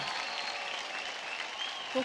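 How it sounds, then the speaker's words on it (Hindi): A studio audience at a televised dance competition breaks into sustained applause for a dancer. The clapping is dense and steady throughout, with a faint voice at the very end. "जोरदार ताली हो जाए बिनी के लिए।"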